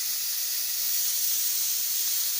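Steady, loud hiss of steam escaping from a pressure cooker with lentils cooking inside, continuous and even throughout without talk.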